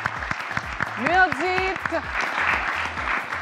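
An audience at a talent show semi-final applauds the jury, a continuous patter of clapping beneath someone speaking and a burst of music.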